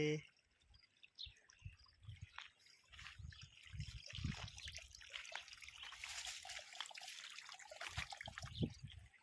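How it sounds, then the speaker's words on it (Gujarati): Steady trickling and gurgling of irrigation water running along a shallow channel into a chili field strip close by, with occasional low thumps and rustling underneath. "તો હમણાં આ પટ્ટામાં જાય છે પાણી"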